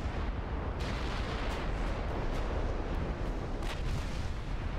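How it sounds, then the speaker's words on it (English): Battleship naval guns in the Ultimate Admiral Dreadnoughts video game fire in a dense barrage, producing overlapping heavy booms over a constant rumbling roar with a few sharper cracks that stand out. "We're really getting a lot of damage in with all these guns."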